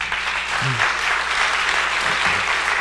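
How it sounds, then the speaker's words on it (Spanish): A church congregation applauds continuously in a steady wash of clapping, with a few faint voices calling out underneath. "Y si quieres puedes darle un aplauso al Señor."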